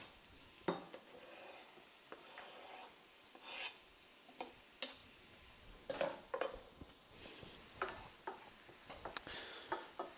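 Finely chopped onion sizzles softly in a pan while a utensil stirs and scrapes it in scattered bursts, with a few sharp clinks against the pan.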